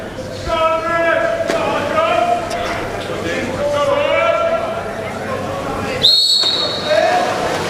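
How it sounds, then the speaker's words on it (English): A referee's whistle opens a college water polo match between Fordham and Wagner: one short, sharp blast near the end, cutting over steady crowd noise and ongoing talk. "And there is the whistle"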